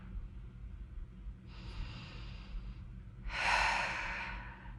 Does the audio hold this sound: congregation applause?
no